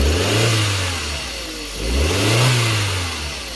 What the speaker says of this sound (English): You hear that little turbo spool?